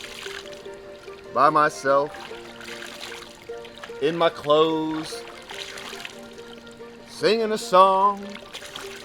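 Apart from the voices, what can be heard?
river water flowing in Montana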